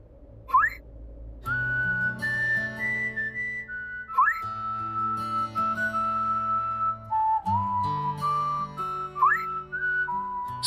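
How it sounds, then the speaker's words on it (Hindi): A melodic whistled tune in a TV drama scene, clear and fairly close, with sliding pitch rises between sustained notes and soft background music underneath, continuing for several phrases. "सीटी की आवाज कहां से आ रही?"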